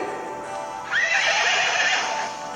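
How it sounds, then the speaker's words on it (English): A horse gives a single loud, high whinny that rises and trails off, heard alone and close. "What is the sound of horse?"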